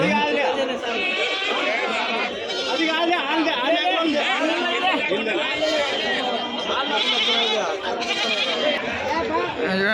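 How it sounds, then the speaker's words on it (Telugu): Many goats bleat continuously, close and overlapping, amid a busy crowd chattering throughout at a weekly goat and sheep market in Kadiri. "ఇక్కడ చూడండి ఇక్కడ మేకలు ఉంటాయండి"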